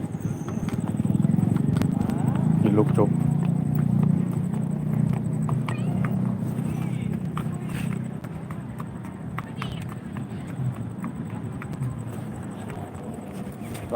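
Hungry horse's hooves clip-clopping at a historic Thai town site, a faint irregular clatter under a steady low rumble and ongoing talk.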